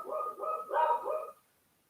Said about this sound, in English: You got a dog, Kevin?